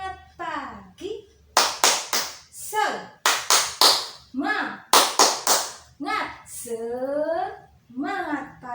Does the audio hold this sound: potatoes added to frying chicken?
no